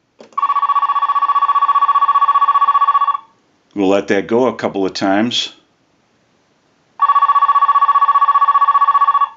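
An AT&T 530 telephone base rings in two long electronic bursts of about three seconds each, loud and close, separated by a short spoken remark from a man.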